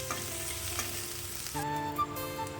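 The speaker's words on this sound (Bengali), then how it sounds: "অল্প পরিমাণ তেল দিয়ে আগে পেঁয়াজটাকে ভেজে নিচ্ছি।" Onion frying in a little oil in a kadai, a steady close sizzle with a faint hum beneath and a few light stirring taps, no voices.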